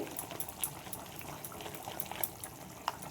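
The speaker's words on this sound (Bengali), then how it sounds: "এবার এই যে ঝোলটা ফুটছে আমি এর মধ্যে ছেড়ে দেবো।" Fish curry broth bubbles in a cooking pan, a faint, soft stream of small pops and gurgles with occasional sharper ticks, heard alone without talk.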